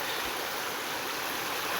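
A river flows steadily downstream, its broad, even rushing continuous and fairly close, with no voices over it.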